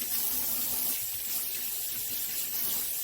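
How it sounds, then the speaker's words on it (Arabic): Kitchen tap water runs steadily over fresh tomatoes being washed for tomato sauce, a close, even splashing hiss with no speech. "نبدا كده نفتح عليها الميه اهي"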